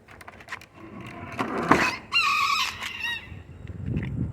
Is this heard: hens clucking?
yes